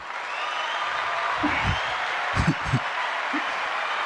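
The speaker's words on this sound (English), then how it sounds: "Let me give you a round of applause for joining." A podcast round-of-applause sound effect plays as a steady, moderate wash of clapping hiss, with a few low thumps scattered through it.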